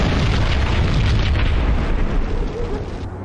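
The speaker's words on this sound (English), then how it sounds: "Another bomb exploded inside the closest slum building." Bomb blast inside a slum building in the Max Payne video game, a loud sustained roaring boom with deep low rumble that stays dense for a few seconds before tapering off.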